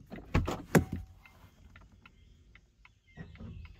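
A Volvo C40 electric car door is opened while reversing: a cluster of sharp mechanical clunks and latch clicks up close, followed by quiet cabin sounds and a faint chime-like tone.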